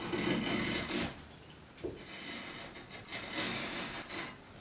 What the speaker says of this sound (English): as I'm getting around here to the end grain, I'm skewing it more and I'm slicing it.